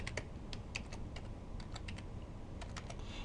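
Steady run of close computer keyboard keystrokes entering a file name, crisp individual clicks at an even pace over a faint background hiss.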